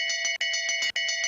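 Bell ringing to mark the final laps of a men's mass start speed skating race, a rapid continuous electronic-sounding ring in three bursts separated by brief gaps.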